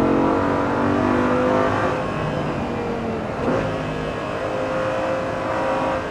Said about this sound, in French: Le moteur sonne vraiment fort.